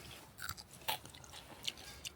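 Someone chewing grilled fish outdoors, a few soft wet crunches and bites at irregular intervals, close but quiet, with no speech.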